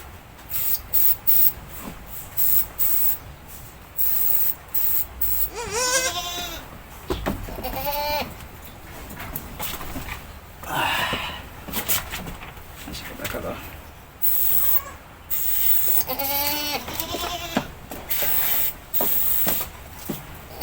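Hissing bursts of a mixed spray solution being sprayed on a farm, repeated in short close pulses, with loud bleating or squealing animal calls breaking through and a voice speaking at times.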